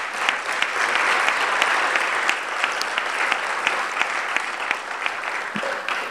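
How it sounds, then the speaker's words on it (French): An audience at an awards gala applauding, dense steady clapping from a large crowd that swells early, holds, then thins slightly toward the end. "je pense qu'il mérite une bonne main d'applaudissements."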